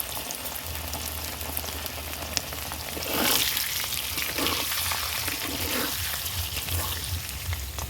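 Pre-boiled potatoes for biryani frying in hot oil with salt and turmeric: a steady, even sizzle that swells briefly as the pieces are stirred partway through, close and continuous with no voices.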